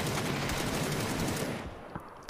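Video game gunfire during an esports match: a dense, sustained burst of rapid automatic shots, loud and close, that cuts off and fades to quieter game ambience near the end, with no talking.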